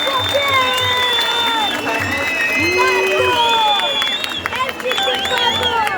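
Audience at a Narcotics Branch Directorate event in Tekirdağ applauding guests, loud continuous clapping and crowd noise with whistle-like tones and voices mixed in across the whole stretch.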